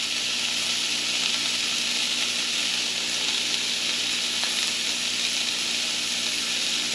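Slices of pork roll fry in a very small frying pan, making a constant, loud, close sizzle that holds evenly throughout with no voices.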